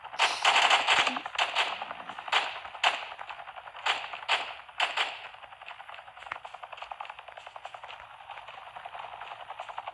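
Video game gunfire crackles in rapid bursts of sharp shots, loud and close at first, then thinning into a steady rattling patter.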